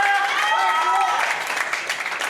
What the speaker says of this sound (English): The crowd approves.